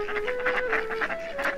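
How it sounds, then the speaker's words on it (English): A mother duck and her ducklings quack by a quiet lake at twilight, a run of close, repeated nasal quacks in quick succession with no talking. "A mother duck and her youngsters come calling for crumbs while you enjoy the twilight by the water's edge."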